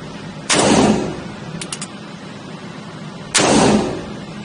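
Two loud, booming gunshots from a Ruger Blackhawk .41 Magnum revolver at an outdoor shooting range, about three seconds apart, each with a long rumbling decay, and light clicks between them.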